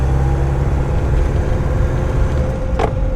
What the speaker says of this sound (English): Engine running good.